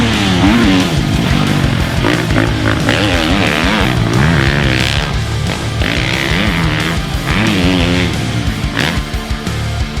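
A 2022 Husqvarna FC350 four-stroke motocross bike runs loudly and continuously throughout, its engine rising and falling through the revs with no speech.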